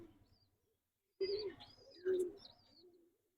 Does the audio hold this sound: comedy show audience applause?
no